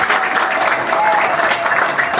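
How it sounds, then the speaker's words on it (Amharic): Audience applause at an arts awards evening, a dense continuous wash of clapping throughout the short stretch, fairly loud and steady. "ጭብጨባ ያስፈልጋቸዋል።"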